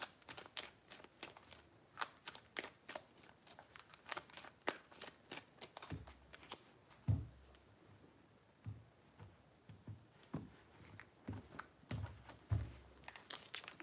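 Tarot cards are shuffled with quick, soft flicking and riffling taps in uneven bursts, faint and close, with occasional low thumps from handling.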